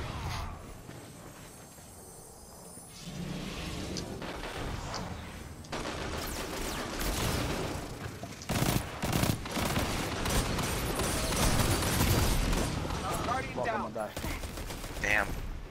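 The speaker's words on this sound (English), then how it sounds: "He got a shotgun." Rapid gunfire in the Destiny 2 video game, including shotgun blasts, rattles in dense bursts of sharp reports with clanking impacts, loud and sustained, while a player talks over the fighting.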